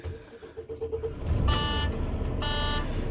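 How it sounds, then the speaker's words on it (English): A truck's diesel engine starts up for an air brake compressor check, a sudden broadband roar at about 1.5 seconds that settles into a steady, loud rumble with a faint whine above it. "So you start the truck"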